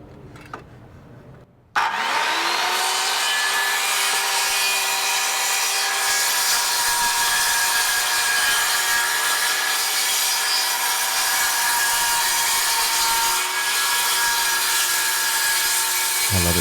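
After a brief quiet moment, a power saw starts up and rips steadily through wood strips, its loud, continuous bright whine holding nearly unchanged to the end.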